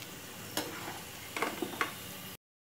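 Food frying in oil in a pan, a faint continuous sizzle with a few louder crackles and spatter bursts, then abrupt silence.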